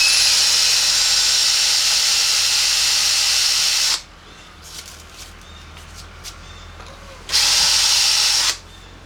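A drill bit bores out a stripped Allen hex bolt in a motorcycle engine, a loud steady grinding whine for about four seconds, then a quiet gap with faint clicks before a second shorter burst of drilling near the end.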